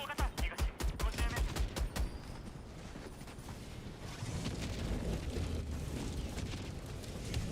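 A 120mm orbital barrage in Helldivers 2 slams down as a rapid string of loud explosive blasts over about two seconds, then fades into a sustained rolling rumble of battlefield noise.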